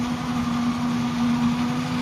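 A tractor pulling a loaded maize trailer rumbles steadily toward a farm gate, its engine droning at a constant low hum with no break for the whole stretch.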